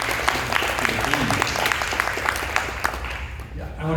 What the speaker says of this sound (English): big round of applause to say thank you to all of the team.